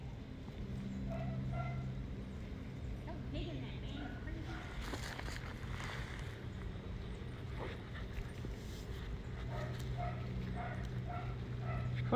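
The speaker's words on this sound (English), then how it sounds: "Who's barking over there?" A corgi barks a few times in the distance amid background chatter and household noise, with people talking nearby.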